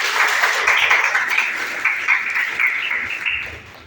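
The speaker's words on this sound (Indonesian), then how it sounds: "Tepuk tangan buat temannya." A classroom of students claps for a classmate, a short burst of fairly loud, close hand clapping that tapers off toward the end.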